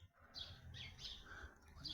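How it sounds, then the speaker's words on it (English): Small sparrows chirp in a close cluster, several short bright tweets in irregular bursts over a low rumble of background noise, with no talking. "Here are little sparrows now."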